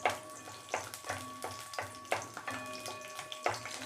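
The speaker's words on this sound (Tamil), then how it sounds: "அந்த 10 பல் பூண்டு அதை இதில் போட்டு ஃபஸ்ட்டு வதக்கிப்போம்" Ten garlic cloves being sautéed in a pan: a soft background sizzle broken by repeated scraping strokes and light clinks as they are stirred, fairly quiet and close.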